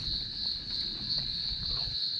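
Crickets chirp continuously in dense undergrowth, a steady high trilling drone with a faint rustling background.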